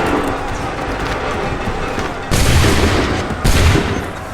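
Musket volleys from massed soldiers in Assassin's Creed 3 crack out as two loud broadband bursts, the second about a second after the first, each rolling off over a steady background din of battle noise.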